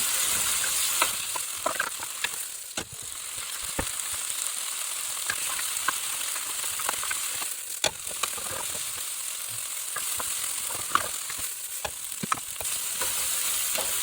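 Onions and tomatoes sizzling in a pan for Chinese chicken in red sauce, a continuous loud frying hiss broken by frequent scraping clicks of a utensil stirring.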